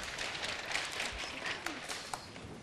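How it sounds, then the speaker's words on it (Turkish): Applause for a child at a 23 April Children's Day gathering in Turkey: a soft, steady patter of many hands clapping, fairly quiet and distant, with a few sharper claps standing out near the end. "Aa tebrik alkış ediyoruz seni de."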